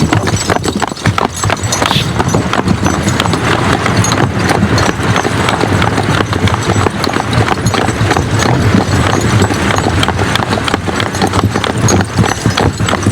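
A farm horse runs with rapid, continuous hoofbeats clip-clopping loudly and close throughout, a dense steady drumming with no talk over it.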